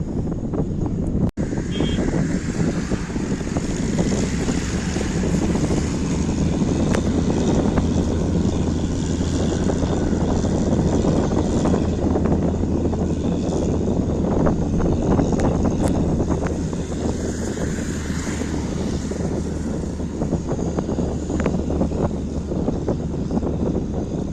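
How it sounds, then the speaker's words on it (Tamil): Strong wind roars steadily near Pamban bridge in Rameswaram, buffeting the microphone with a constant loud rush and low rumble throughout, with no voices. "காத்து செம்ம பலமா அடிக்குது."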